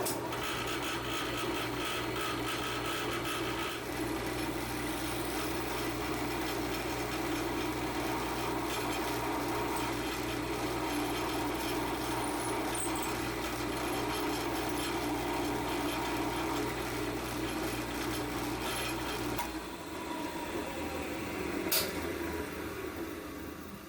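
A power drill bores into a piece of wood clamped in a vise for a large clock build, a steady close motor drone that holds for about twenty seconds, then stops abruptly and leaves a few light knocks.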